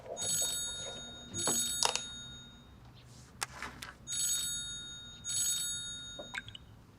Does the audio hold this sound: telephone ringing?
yes